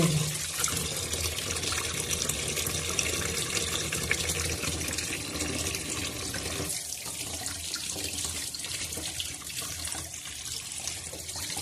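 Steady running water from a tap splashing into a sink, continuous and close, with some slight changes in flow as mackerel is rinsed under it.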